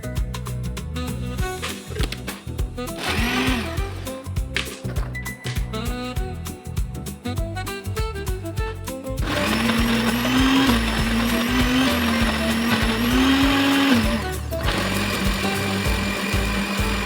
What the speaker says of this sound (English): Add them to your blender with 1 large egg and blend until smooth.